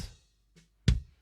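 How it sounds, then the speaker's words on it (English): Kick drum captured by a microphone inside the drum gives sharp beater attacks: a strong punchy hit near the end, a fainter tap before it and a decaying tail at the start, alone and close. "This kind of gets the beater attack on the inside of the kick drum"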